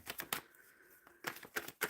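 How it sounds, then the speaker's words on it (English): Tarot cards shuffled by hand in short, soft riffling bursts: a quick cluster, a brief pause, then several more quiet flicks. "Shuffling for Pratima Badanak"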